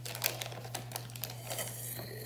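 Paper wrapping peeled off a stick of butter crinkles in soft, irregular rustles close by, over a steady low electrical hum.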